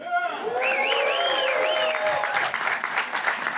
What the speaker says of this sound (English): as you can hear, he was really milking that applause